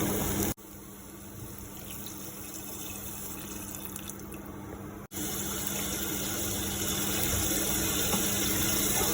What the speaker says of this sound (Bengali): এখন আমি পরিমাণ মতো পানি দিয়ে দিব এখানে